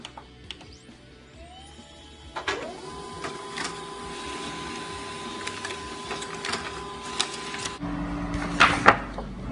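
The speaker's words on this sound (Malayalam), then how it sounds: "ഒരു പ്രിന്റ് എടുത്തു നോക്കാം." A printer runs through a copy onto an A4 sheet, with quiet mechanical whirring, clicks and feed noises that build toward a busier burst at the end.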